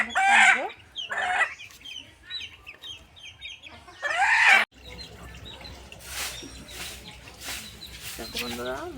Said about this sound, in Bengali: দেখো, একটা মুরগি নিয়েছি।